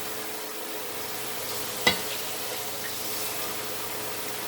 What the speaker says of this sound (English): we put the water in.